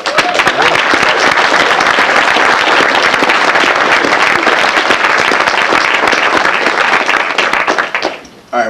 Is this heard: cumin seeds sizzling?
no